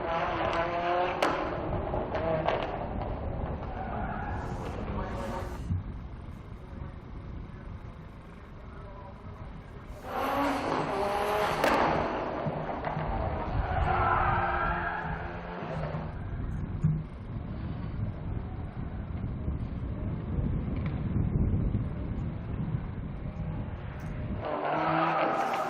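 A four-wheel-drive historic race car at a circuit accelerates hard, its engine roaring loud and close, then the tyres skid and squeal under braking as it understeers, with a commentator talking over the noise.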